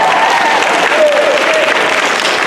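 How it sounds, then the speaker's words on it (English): Convention crowd applauding for staff at Bronycon in Baltimore, a dense, sustained roar of clapping filling the room, loud and continuous, with faint voices mixed in. "How about a round of applause for the staff here at Bronycon?"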